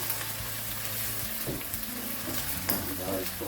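Aubergine and potato curry sizzles in a pan as garam masala is stirred through, a steady frying hiss broken by a couple of scraping utensil strokes.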